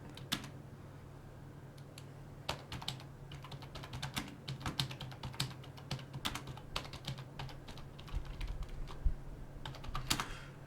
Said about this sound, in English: And sorry for the loud typing.